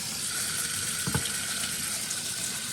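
Water flushing back through a Bissell Crosswave floor cleaner makes a steady rushing hiss throughout, with one brief clunk partway in. No one speaks.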